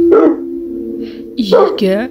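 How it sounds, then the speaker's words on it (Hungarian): In the Minecraft video game, a tamed dog gives a few short, sharp barks and yips close up, with a brief whimper-like tone between them, loud and isolated against a quiet background. "Találtam 2 kutyát, amit megszelidítettem."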